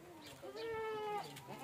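A pregnant goat at the Deonar livestock market gives a single faint, wavering bleat of about a second, heard alone against quiet market background.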